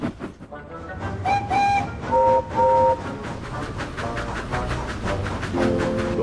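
Steam locomotive sound effect for a children's story about Gordon the engine: rhythmic chuffing puffs with several bright whistle toots over the top, moderately loud and close, no talking.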